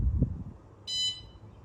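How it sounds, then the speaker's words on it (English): Toolbox alarm system beeping as it arms, a single short high-pitched electronic beep lasting about a quarter second after a brief low knock, otherwise quiet. "Alarm system for the toolbox."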